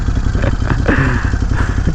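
A Ducati Scrambler 1100 Special motorcycle engine runs steadily and loud throughout, with a dense, pulsing low rumble and the clattery texture of the engine close by while riding.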